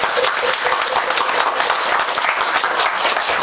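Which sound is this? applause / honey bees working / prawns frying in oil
applause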